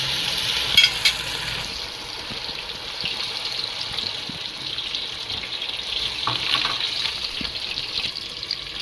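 A cup of water goes into a pan of frying eggplant and chicken, bringing a steady sizzle and bubbling hiss with brief splashes and clinks near the start, close and moderately quiet, with no talk.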